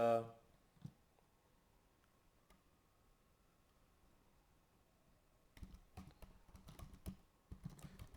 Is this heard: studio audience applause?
no